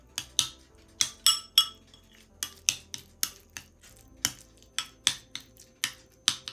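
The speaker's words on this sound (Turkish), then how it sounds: "Şöyle karıştırıyoruz." A spoon clinks against a bowl in sharp, bright, close taps, about a dozen irregular strikes, while an avocado toast topping with flaxseed oil is stirred, with no talking.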